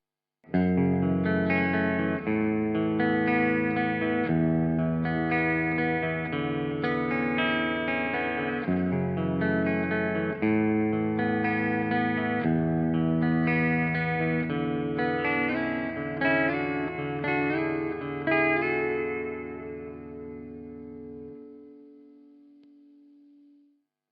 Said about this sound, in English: flicking it to clean, turn on some delay and just add some reverb